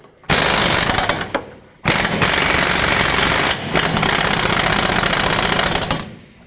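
A 21mm rear upper control arm bolt on a 2005-2010 Pontiac G6 being loosened with a socket tool: loud continuous mechanical rattling in three long bursts with short gaps, close and alone.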